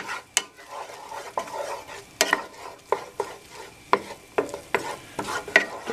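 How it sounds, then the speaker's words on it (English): Tuna casserole mixture with sautéed onions is stirred in a pan, with a spoon knocking and scraping the pan in distinct irregular strokes over a faint sizzle, close by. "It's just getting mixed in more or less evenly with the onions at this point."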